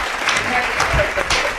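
Audience applause for a guest, a Federal Police theatre artist, rising in dense patter with voices mixed in, moderately loud throughout.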